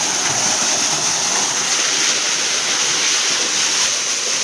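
Well water gushes out into a summer jowar (sorghum) field, a loud, steady broadband rush with some wind buffeting, continuous and close, with no talk.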